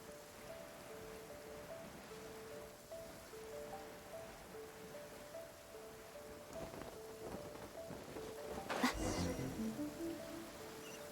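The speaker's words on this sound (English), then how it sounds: "If this rain keeps up, my fur will be dripping wet." Steady rain falls in a Genshin Impact game scene, a soft continuous hiss with a brief louder rumble toward the end, while faint musical tones play underneath.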